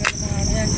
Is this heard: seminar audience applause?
no